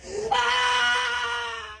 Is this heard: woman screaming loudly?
yes